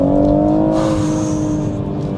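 A BMW M140i Shadow Edition engine revs in second gear at around 3,000 rpm, giving a steady, loud, droning engine note from inside the car with no talking.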